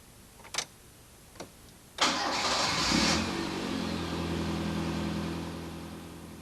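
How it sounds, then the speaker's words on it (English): A few clicks, then a Toyota car engine with TCCS electronic fuel injection cranks and catches, revving briefly before settling into a steady idle. "First, we start the engine."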